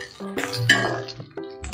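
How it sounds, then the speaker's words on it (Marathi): Curry leaves stir-fried in a hot kadhai, with close metallic clinks of a utensil against the pan in a short burst of scraping and tapping. "आता ह्याच गरम कढईमध्ये नुसतं आपण कढीपत्ता परतून घ्यायचा आहे कुरकुरीत होईपर्यंत"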